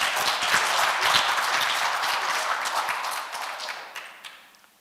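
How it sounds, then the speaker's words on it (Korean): Lecture audience claps at a Wednesday morning special talk, a brief burst of many hands that thins out and fades over a few seconds. "그래 할 것 같으면 박수 부탁드려요"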